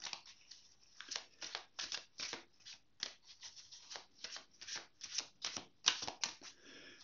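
Tarot cards shuffled and handled by hand in a steady run of quick riffling and sliding bursts, close and fairly quiet, with no talking.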